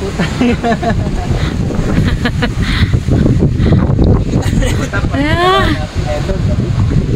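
Strong, cold wind at People's Park in Tagaytay City roars steadily across the microphone, with a voice talking over the buffeting gusts.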